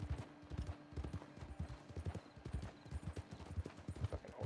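Rapid, steady hoofbeats of a galloping horse in Red Dead Redemption 2, close and continuous, with a faint electronic hum in the background.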